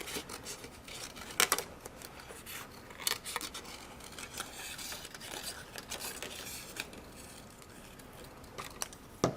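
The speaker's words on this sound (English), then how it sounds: "now we're going to get some scissors, and we're just going to cut out the telephone chickies" Scissors snip through cardstock to cut out paper chick shapes for a craft, with scattered crisp cuts and rustling paper close by and no talking.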